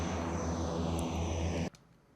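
The droning four-engine propeller roar of an Antonov AN-12 in a flight simulator holds steady with a constant low hum, then cuts off abruptly near the end, leaving near silence.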